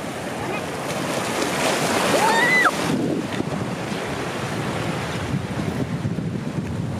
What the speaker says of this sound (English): all of the rocks are wet because the waves have been pushing off it and going on to where we're standing